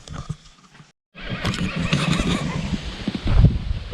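Several horses neighing and whinnying near a Ford Transit van under construction, a loud close call at the start, a short silence, then repeated whinnies with shuffling and thuds, ending in a strong burst of low rumbling noise.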